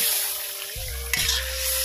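Potatoes frying in a hot pan on an outdoor cooking setup while chicken legs are cooked nearby; a steady sizzle swells into a louder hiss and burst of spattering as water is poured in, continuing as a broad crackle.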